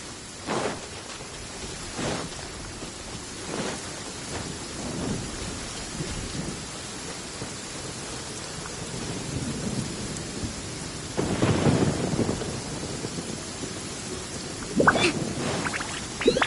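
Steady rainfall and deep rolling thunder in the video game Genshin Impact, a continuous downpour with distant rumbles building to a louder crack near the end, no voices.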